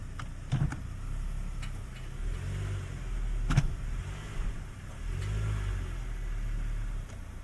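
Engine of a 2021 Nissan Kicks 1.6 L with no throttle response and stalling, idling steadily nearby after being put in gear, with a low hum and faint ticking.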